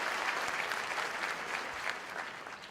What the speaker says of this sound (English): I didn't hear enough of an applause for all those new jobs created.